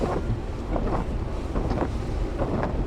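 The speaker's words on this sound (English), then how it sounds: "Tornado, we're going right into it." Roaring, buffeting wind battering the microphone while driving straight into a tornado, a dense rumbling gust noise that swells and dips throughout with no speech.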